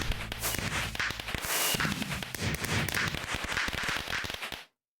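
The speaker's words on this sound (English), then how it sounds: "Yay, fireworks!" Fireworks effect from a musical memory video game: a dense run of crackling pops and bursts, fairly loud and continuous for several seconds before cutting off abruptly.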